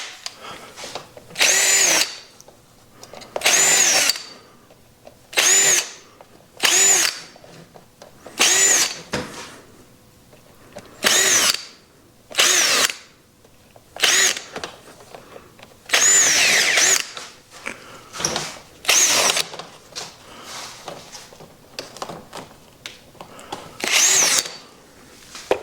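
A power drill bores larger holes for a chicken merry-go-round in loud, repeated bursts of whining motor, roughly a dozen spaced runs of a second or so each, separated by short pauses.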